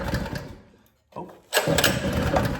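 A cheap used go-kart engine sputters, cuts out briefly to near silence, then fires back up and revs hard with a loud, buzzy, rattling roar held to the end.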